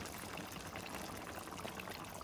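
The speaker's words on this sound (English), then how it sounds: "that was 1 mug of hot water." Hot water poured from a mug into chicken cooking in a pan for an Indian Bangladeshi Sylheti chicken garlic dish, a steady close splashing pour that lasts throughout without talk.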